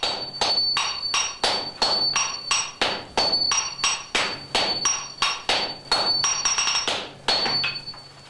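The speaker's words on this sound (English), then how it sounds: "his disciples wielding the large hammers how hard and fast they should hit the steel" Swordsmiths strike glowing steel with a small guiding hammer and large sledgehammers in a Japanese sword forge, producing a rapid, steady series of loud ringing metallic blows, roughly two per second, with no talk.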